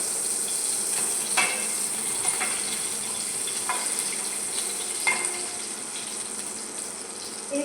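Fried onions sizzle in a hot pan with Sundrop oil and a little ghee for biryani, a steady close crackle punctuated by several sharp spits and pops.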